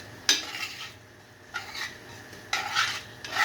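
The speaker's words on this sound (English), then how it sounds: "You're gonna stir it around and have that for a good couple minutes." Southern-style gravy stirred in a pan over low heat: three separate scraping strokes of a utensil against the pan, a second or so apart, each with a soft gentle sizzle, close and fairly quiet.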